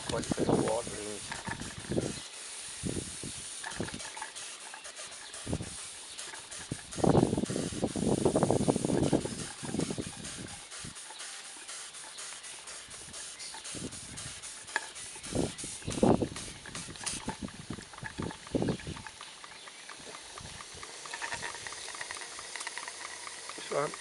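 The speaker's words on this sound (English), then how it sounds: "I'll open the drain taps, the drain cocks, and we'll give it a little go." A newly built vertical steam engine vents steam through its open drain cocks, giving hissing bursts and sputtering, watery spurts over a quiet mechanical background, with a brief loud rush partway through.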